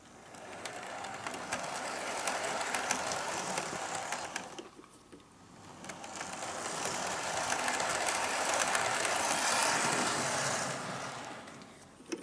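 Model Adams O2 tank locomotive pulling two or three LSWR coaches in malachite livery around a layout, a steady rolling rumble with fine rail clatter that fades briefly midway and returns, no voices.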